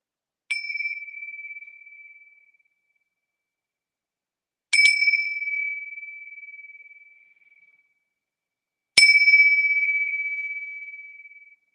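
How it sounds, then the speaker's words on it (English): Three separate strikes of a bell or singing chime, each ringing out clear and bright and slowly fading before the next, with silence between and no talking. "I'm just going to ring the bells, clear the energy"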